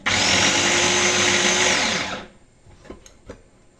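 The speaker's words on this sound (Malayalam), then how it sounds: "ഇനി അരവ് ആയില്ലാന്ന് തോന്നുവാണെങ്കിൽ ഒന്നുകൂടെ വെക്കാം കേട്ടോ" Mixer grinder grinding curry paste, a loud whirring motor hum for about two seconds, then it stops, leaving a couple of small clicks and knocks.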